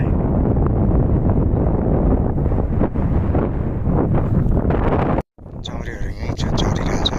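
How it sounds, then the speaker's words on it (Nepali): Strong, cold mountain wind at the India–Nepal border near Sandakphu, roaring and buffeting the microphone almost continuously, cutting out briefly before gusting back in. "चिसो हावा क्या सिरेटो ज्यादा हो"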